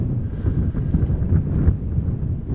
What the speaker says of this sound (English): it is a bit windy, it has become a bit more